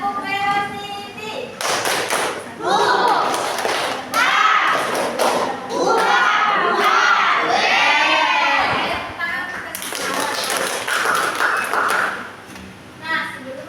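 A classroom of schoolchildren performs a rhythmic clapping cheer, with sharp hand claps mixed with their loud chanting voices and a teacher speaking.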